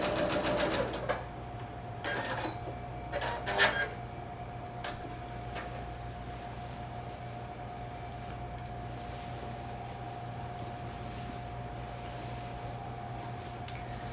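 A sewing machine backstitches the end of a skirt seam with short mechanical whirring bursts near the start, then settles to a faint steady hum with occasional light clicks, quiet and close.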